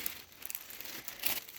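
Soft paper crinkling and rustling, close by, in short irregular bursts with a louder crumple near the end; no voices.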